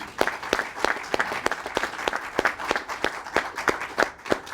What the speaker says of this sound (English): let me give my internal team a round of applause